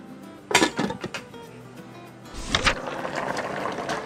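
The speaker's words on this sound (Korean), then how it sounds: "이때 뚜껑은 이렇게 닫아주셔도 돼요." A lid is set down on a pot of simmering Korean braised chicken with green onion. Two separate bursts of clattering metal knocks are heard, the second settling into a rushing, bubbling background.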